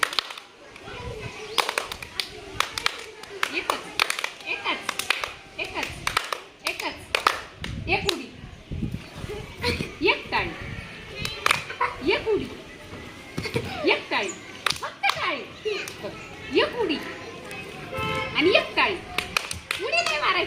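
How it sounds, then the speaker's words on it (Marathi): Children in a first-grade school readiness game clap their hands loudly, many sharp claps in quick bursts and repeated rounds, with an adult and kids speaking between them. "एक बोट दाखवली की नाही तुम्ही जोरात टाळी वाजवायची"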